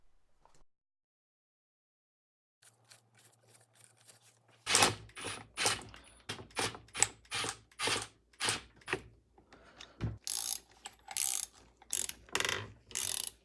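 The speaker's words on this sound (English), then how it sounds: "I'll just take a little collet on one end that basically fits in between the small end of the crankshaft, but it grabs onto your wrist pin and it'll just pull it right through" A wrist pin puller tool draws the piston pin out of a dirt bike engine, giving a quiet series of sharp ratcheting clicks. They start after a few seconds of near silence and repeat in bursts.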